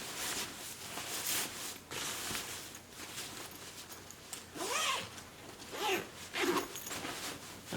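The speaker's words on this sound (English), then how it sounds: "let's just put this in the compartment, the zippered compartment" A bag's zipper on a compartment of an eBags TLS Mother Lode Weekender Convertible Junior being pulled closed, with several quick rasping zip strokes amid rustling of stuffed contents, close and fairly quiet.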